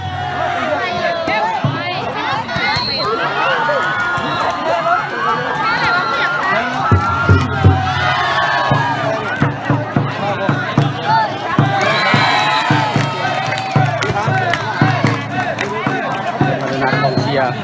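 A cheering squad at a Lao student sports festival in Hanoi keeps up loud, continuous crowd cheering and shouting with rhythmic chants, close by, with a busy babble of voices throughout.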